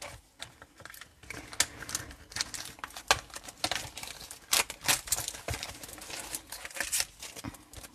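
A wrapped Stampin' Up Christmas label kit package being opened by hand, with crinkling and tearing plastic and paper in irregular close bursts, fairly quiet, no talking.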